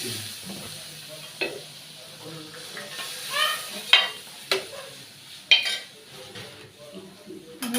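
Lentils lightly fried in a pan with chilli powder are stirred, with a spatula clanking and scraping against the metal in sharp, irregular knocks over a soft sizzle, all close and without talking.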